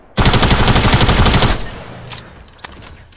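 Rapid machine-gun fire blasts loud and close in a video game, a dense burst lasting over a second that abruptly gives way to quieter scattered game sounds and a few faint sharp hits.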